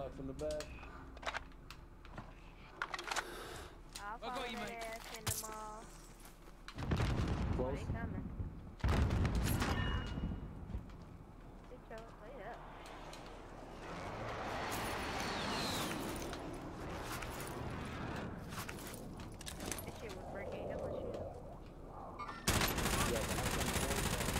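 Gunfire from a shooter video game crackles in bursts and volleys over a noisy, music-filled background, with a voice talking through parts of it.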